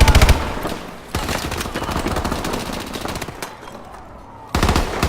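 Assault rifle fire in Call of Duty Advanced Warfare multiplayer sounds as rapid, dense automatic bursts, loud and close, with a short pause before the firing resumes.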